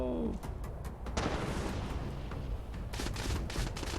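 Plasma grenades from Fallout 76 explode in a rapid cluster of booming, crackling blasts, overlapping with gunfire-like bursts in a dense, loud game battle mix.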